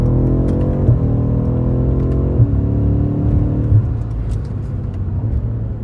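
A 2021 BMW M5 F90 engine drones loudly from inside the car while cornering, a steady low rumble with rising and falling revs and brief shift breaks, no talking.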